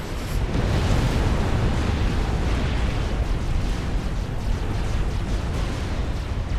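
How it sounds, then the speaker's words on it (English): A unit is destroyed in Supreme Commander: Forged Alliance with a dense rumbling explosion roar that stays loud and sustained throughout, with no voices over it. "Kaboom goes Achilles."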